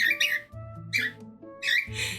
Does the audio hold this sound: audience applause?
no